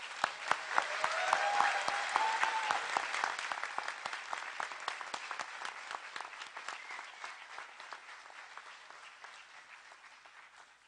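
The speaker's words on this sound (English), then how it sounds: "One more round of applause for our graduates." An audience at a community college commencement ceremony applauds the graduates, a dense burst of clapping that is loud at first, then thins and fades gradually over about ten seconds.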